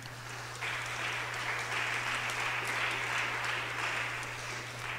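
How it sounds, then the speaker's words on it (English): A church congregation applauds the youth at a Sunday service, steady sustained clapping filling the room at moderate volume over a constant low hum, with no voices. "I want to give them applause again."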